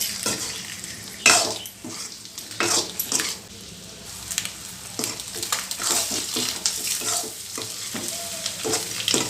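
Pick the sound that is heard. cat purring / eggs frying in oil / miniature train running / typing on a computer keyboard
eggs frying in oil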